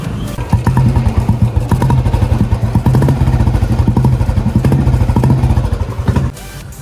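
A Royal Enfield Bullet motorcycle runs close by with a loud, even, pulsing thump while being ridden and parked. The engine cuts off abruptly just before the end, leaving quiet.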